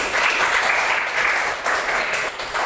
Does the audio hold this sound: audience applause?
yes